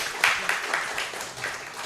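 An audience applauds at a live event in Banyuwangi, a steady wash of clapping with a few sharper claps standing out, moderately loud, while a voice talks over it.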